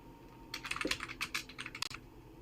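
Fast, continuous typing on a computer keyboard, a close rapid patter of key clicks lasting about a second and a half over quiet room noise, with no voices.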